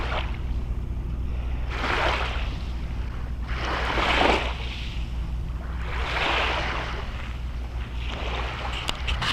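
Foggy sea waves wash onto a shore near Anapa in slow, regular surges about every two seconds over a constant low rumble and wind noise. No one talks.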